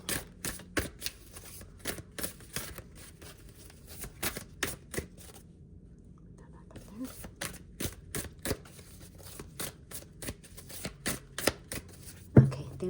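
A deck of tarot-style star cards is shuffled by hand in repeated quick bursts of crisp riffling and flicking, close up, with a short pause midway.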